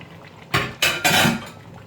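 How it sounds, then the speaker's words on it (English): Fried mackerel pieces drop into a simmering pot of Nigerian okro soup that already holds smoked fish, making three quick clattering splashes against the pot in a quiet kitchen. "So we're going to add the fried mackerel."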